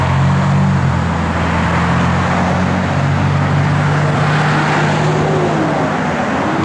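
A 1934 Ford three-window pickup with Edelbrock mufflers and an Edelbrock four-barrel carburetor rumbles steadily, its exhaust a deep, continuous drone that holds an even idle and then shifts slightly in pitch.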